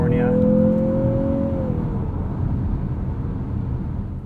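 2023 Mazda CX-50 2.5 Turbo driven in sport mode on a California road, engine note holding a steady pitch then dropping off as the revs fall, continuing as a low rumbling drone.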